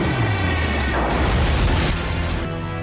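A film scene where a dropped car explodes: a loud booming crash with a rumbling, crackling burst that swells and then slowly fades, no speech.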